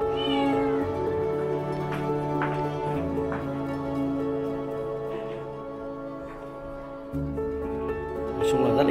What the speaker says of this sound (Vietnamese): Ơ, con mèo đấy